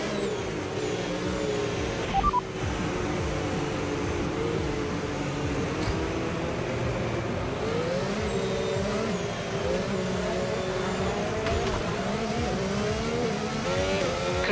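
McLaren race cars roar around the Las Vegas Grand Prix circuit in a racing video game, a dense continuous engine drone with rising and falling revs and gear changes, loud and constant throughout.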